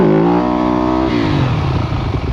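A 250 motorcycle revs hard while wheeling on a ride, its close engine note rising in pitch then dropping and rumbling on, loud and alone.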